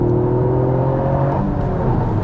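A Toyota GR Yaris accelerates hard under power, its engine a loud, steady, close droning roar with rising harmonic tones and no talk over it.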